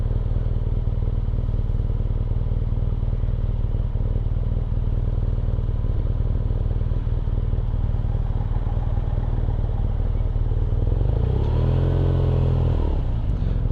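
BMW R nineT Pure boxer-engine motorcycle on the road, a steady close engine drone with wind rush that builds into a brief revving surge near the end, no talking.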